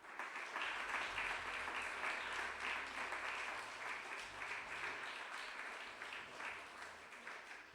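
A congregation at a youth conference applauds its guests with sustained, even clapping from many hands, fairly distant and slowly easing off over several seconds.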